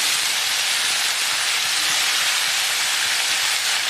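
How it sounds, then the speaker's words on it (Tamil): Brinjal pieces sizzle steadily in a hot pan while being sautéed, a loud, even hiss throughout with no talking. "அதுக்காக இப்போ கத்திரிக்காயை போட்டு நல்லா வதக்கிடலாங்க"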